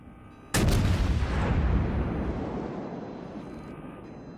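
A World of Warships Royal Navy Nelson-class battleship fires its 406 mm main guns in one huge, close boom that rolls into a long, slowly fading rumble lasting several seconds.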